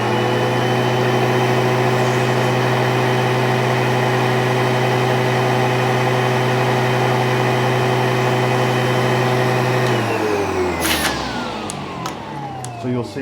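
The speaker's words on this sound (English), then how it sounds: "So this is the Sebo X4 1300." A Sebo X4 1300 upright vacuum cleaner, a serviced customer machine, runs loud and steady with a constant motor whine, then winds down after about ten seconds as its pitch drops; a few knocks and clatters follow.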